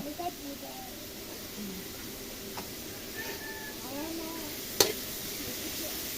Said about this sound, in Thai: ก็ผัดหมูต่อผัดหมูไปเรื่อย ๆ จนกว่าหมูจะสุก ต้องผัดหมูอย่างเดียว